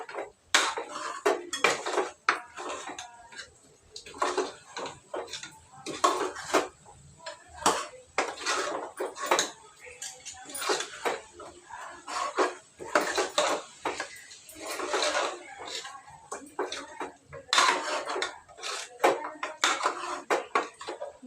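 A pot of curry with tomato, ginger and garlic is mixed by hand, giving repeated scraping and clinking of a utensil against the pot in irregular bursts, close and fairly loud, with no speech.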